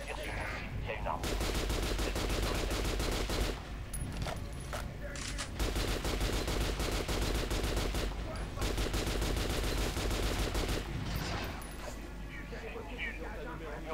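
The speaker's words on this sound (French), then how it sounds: "Tire sur le mannequin." Sustained automatic gunfire in the video game Metro Last Light, shooting at a target dummy: dense rapid bursts with brief pauses, loud and continuous, ending in a quieter stretch.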